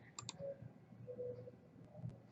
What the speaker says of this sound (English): then you click on this button